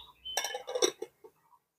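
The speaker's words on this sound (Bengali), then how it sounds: "একটা প্লেট দিয়ে ঢেকে দেব" Plate set over a pan as a cover, giving a close cluster of clinks and clatters with a couple of faint taps trailing off into quiet.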